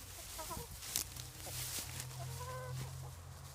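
Chickens in a yard cluck softly and intermittently. A low, steady hum runs underneath, with scattered scratching and rustling close by.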